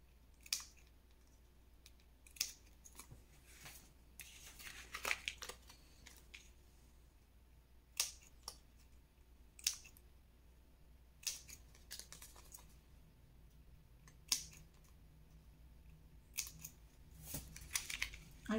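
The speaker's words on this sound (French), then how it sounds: "Vous allez ensuite couper légèrement en biais ici, au niveau des petites pattes de collage." Scissors snipping paper at an angle for a handmade advent calendar, a series of short, crisp cuts spaced irregularly over a quiet background, close and fairly soft.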